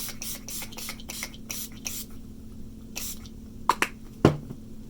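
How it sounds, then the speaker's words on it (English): Urban Decay makeup setting spray misted onto a face in a row of quick hissing bursts, followed by a few soft taps and clicks. "don't forget to add your setting spray, and I'm using the Urban Decay"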